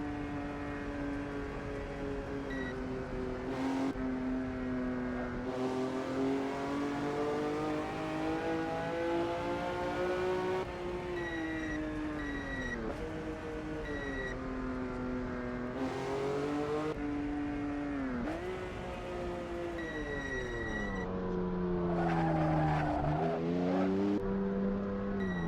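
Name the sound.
race car engine in Assetto Corsa video game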